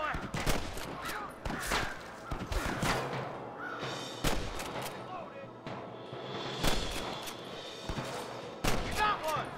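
Repeated gunshots crack in a Red Dead Redemption firefight during a camp raid, loud irregular bursts spread throughout, mixed with shouted game dialogue.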